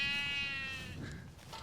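Hampshire and Herdwick cross lambs bleat, a loud, close, wavering call that fades into softer farmyard background sounds.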